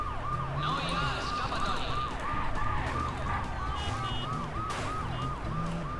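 A police siren wails in the driving game Wheelman, its rapid rising and falling yelp repeating steadily and loudly over rumbling engine and traffic noise, with brief higher electronic beeps mixed in.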